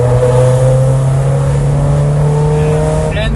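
A Mazda Miata with a 1.8-liter engine holds a steady, loud mid-pitched drone from inside the car, the tone shifting slightly near the end, with a voice talking over it.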